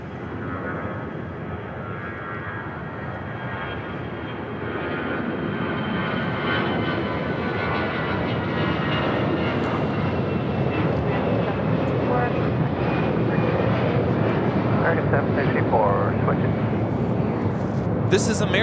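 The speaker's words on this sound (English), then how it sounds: "This is American Airlines 764 taking off to Puerto Vallarta on an A319." An American Airlines Airbus A319 takes off from LAX runway 25 right, bound for Puerto Vallarta. Its jet roar builds gradually and swells louder toward the end, with a voice speaking over the engines.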